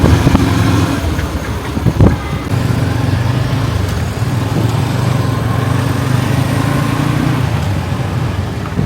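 A motorcycle ridden along a road in Laos, its engine droning steadily and close for the whole stretch, with a brief knock partway through and no talking.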